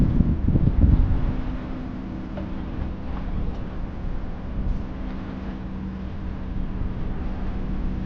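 A sailboat under reefed sail moves through wind on open water, with steady wind rush and low rumbling hull and water noise, plus faint creaks and ticks from the rigging throughout.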